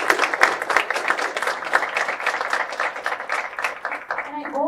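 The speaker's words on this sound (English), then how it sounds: "Let's give them a round of applause." Applause for presenters at a student entrepreneurship pitch competition, a lively mix of many hands clapping with distinct sharp claps standing out, a voice starting to speak near the end.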